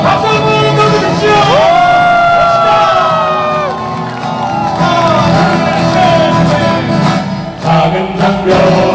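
At a street rally held in heavy rain in Jeonju, a large crowd cheers and shouts with whoops and raised voices, a loud, continuous wash of cheering with chanting-like tones running through it.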